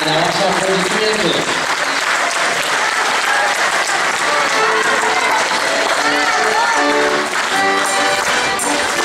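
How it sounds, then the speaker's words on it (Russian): Sustained audience applause at a folk song festival, a dense, loud wall of clapping from a crowd with some musical tones underneath, continuing for the whole span. "Ваши аплодисменты."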